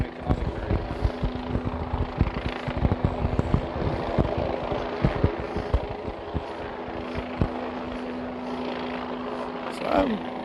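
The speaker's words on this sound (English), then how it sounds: "It's hard to hear because it's picking up that helicopter a lot" A helicopter drones steadily overhead above a park being cleared during a Seattle protest, its low rotor hum persisting beneath scattered crowd noise, footsteps and chatter.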